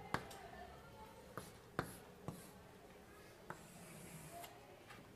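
Chalk tapping and scratching on a blackboard during a university calculus lecture, a few sharp clicks and strokes spread over several seconds, fairly quiet with room noise and no speech over it.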